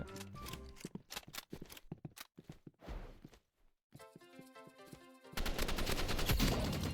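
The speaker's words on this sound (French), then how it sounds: "je le trouve trop stylé le bruit qu'a fait l'arme, la Hog" Hog weapon fired in the shooter game Rivals: bursts of rapid, punchy gunshots in quick rhythmic volleys, broken by a short pause and followed by a dense, sustained roar of fire, loud and close with little talk.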